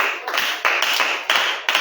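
A church congregation claps together to acclaim the Lord, a few loud, near bursts of clapping in uneven rhythm, briefly broken by short pauses.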